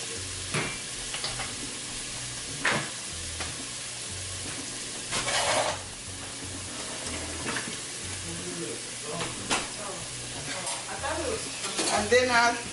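Milk stirred into a homemade lasagna pasta sauce in a pan, soft scraping and gentle sizzling with occasional clinks and splashes, moderately quiet throughout.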